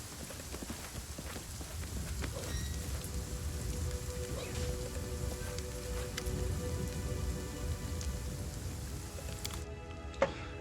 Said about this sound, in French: c'est casse-couille cette pluie là